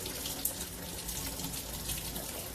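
Water streams steadily from a tap, a continuous hissing gush that stays even throughout, with no talking.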